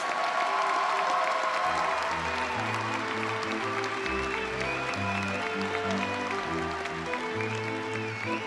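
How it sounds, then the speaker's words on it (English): Steady applause from a large crowd at an engineering college undergraduate graduation honoring industrial engineering graduates, sustained and even, with low background music running beneath the clapping. "A round of applause for our Industrial Engineering Bachelor of Science candidates."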